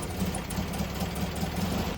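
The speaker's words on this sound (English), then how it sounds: "I'm actually going to start the bus up and let it suck all the fuel up" A 1966 VW Bus air-cooled engine idles with an even, regular putter of firing pulses, close and moderately quiet, with no talk.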